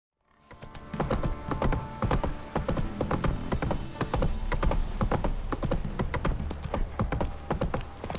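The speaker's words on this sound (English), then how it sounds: "Time to water the horses." Horse hooves clip-clop in a steady, uneven rhythm on a hard surface in The Witcher 3: Wild Hunt, fairly close, continuing for several seconds with no voices.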